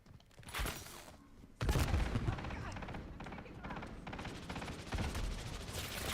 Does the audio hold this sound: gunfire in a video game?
yes